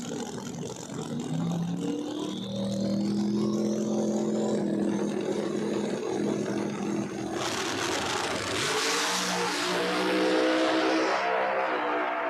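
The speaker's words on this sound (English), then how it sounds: "that was a drag race" No-prep drag race cars launching and roaring down the strip at Flying H, a loud sustained engine howl rising in pitch, then a second surge of engine noise and crowd roar near the end.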